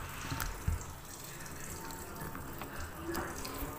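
Water pours steadily into an LG top-load fully automatic washing machine as it starts filling, a continuous close rush and hiss with no break through the clip.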